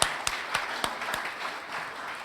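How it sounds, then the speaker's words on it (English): Audience applause at the opening of a symposium on Olmsted, beginning with a few distinct claps and then settling into a soft, distant patter. "we owe you applause and thanks."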